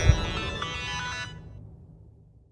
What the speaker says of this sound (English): Wait, do you hear that, bud? It's my phone ringing.